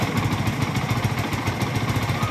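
A Kawasaki NS150 motorcycle engine, converted from a stock bushing-type to a bearing-type connecting rod and with its timing chain readjusted, runs steadily at idle. It makes a close, rhythmic, even chugging throb for the whole stretch.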